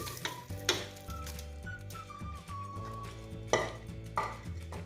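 Metal spoon stirring and scraping chana dal with spices inside a cooker, with a few sharp clanks against the sides and a soft sizzle underneath.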